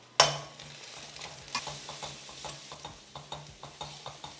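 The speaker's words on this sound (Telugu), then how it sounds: "ఇప్పుడు ఇది కాన్స్టెంట్గా స్టర్ చేసుకుంటూ లైట్ బ్రౌన్ అయ్యే వరకు ఫ్రై చేయాలి." Onions with dried red chili and turmeric frying in a pan, with a steady soft sizzle and a sharp first clink followed by regular scraping stirs, close and alone.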